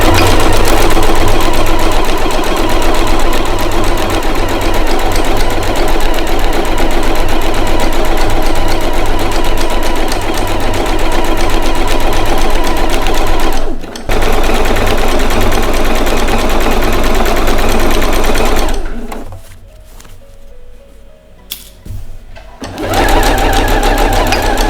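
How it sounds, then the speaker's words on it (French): Sewing machine stitching a seam around the neckline of a fabric bib, running loud and continuously at a steady fast rhythm for most of the clip, then stopping briefly before starting again near the end. "on va faire une couture qui part de l'épaule, qui fait tout le tour jusqu'à la deuxième épaule"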